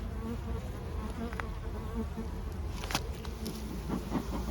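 Honeybees buzz steadily around an open beehive, a dense close hum of many wings with individual bees zipping past near the end.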